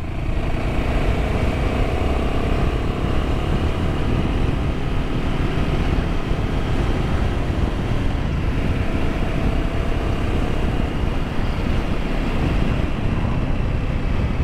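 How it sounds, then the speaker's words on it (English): A Royal Enfield Himalayan 450 motorcycle engine running steadily while riding, a continuous dense drone mixed with wind rush, close and loud throughout without pauses. "Yeah, very, very free revving engine."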